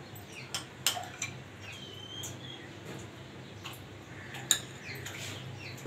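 A spoon adding mayonnaise to potatoes in a bowl, making a few light taps and clinks against the dish, close and sparse over a quiet kitchen background with no talking.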